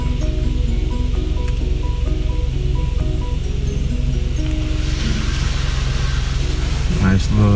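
Water sprays onto a car at a late-night car wash, a steady hissing rush over a constant low engine-like rumble, with a brief burst near the end.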